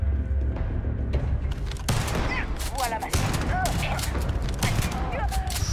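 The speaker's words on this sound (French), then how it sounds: "Ah, le fusil à pompe de l'ancien temps," An old-time pump shotgun fires during Starfield gameplay, several loud booming shots over continuous battle noise with mechanical clacks, while someone talks over the action.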